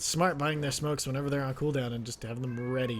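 Pet cat Walter Kitty meowing repeatedly and loudly up close, several drawn-out tonal meows in quick succession, while someone talks at the same time.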